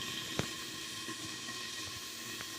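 Mourala fish cooked without oil in a covered pan on a gas stove gives a steady, soft hiss, with a few faint ticks and pops underneath, ending abruptly.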